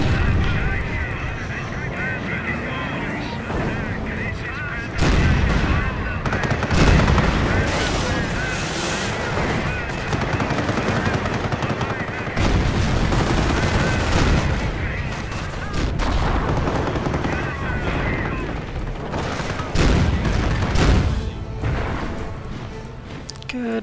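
An anti-tank gun fires during a Company of Heroes battle, sending heavy booming shots every few seconds through steady gunfire and explosions, with voices talking over the fighting.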